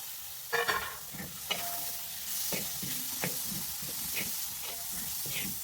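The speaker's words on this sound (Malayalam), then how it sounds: "എന്നിട്ട് ഇവരെ എല്ലാവരെയും കൂടി നമുക്ക് ഒന്ന് ഇളക്കി ഒന്ന് മിക്സ് ചെയ്യാം" Chopped tomatoes and onions frying in a pan for a home-cooked stew are stirred, giving a steady sizzle with scraping spoon strokes, loudest in a few sharp knocks near the start.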